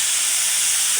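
Hot oil sizzles steadily around chicken pieces in a frying pan, a loud, continuous broadband hiss with no breaks and no voices.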